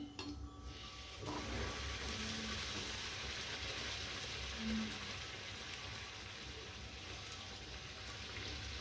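Puris deep-frying in a small amount of oil for chole puri give a steady, fairly faint hiss and crackle that runs evenly throughout with no talk.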